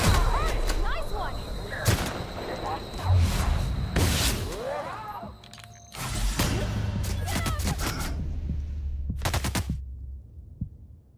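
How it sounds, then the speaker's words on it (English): Explosions from the space exploration game Outer Wilds go off as a string of loud, sharp booms with ringing tails, spread over several seconds and closer together near the end. "Explosions are too noisy."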